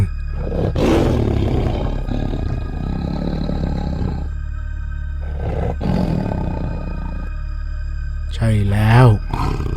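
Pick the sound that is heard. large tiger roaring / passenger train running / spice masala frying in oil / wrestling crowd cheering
large tiger roaring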